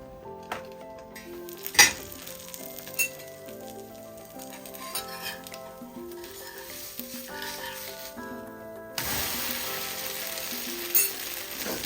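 Dosa batter sizzling on a kavali griddle, a continuous close frying hiss with a few sharp utensil clinks and scrapes, growing brighter and louder near the end.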